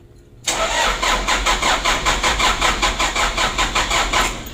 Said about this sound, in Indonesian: Untuk starternya itu panjang ya, nggak hidup-hidup gitu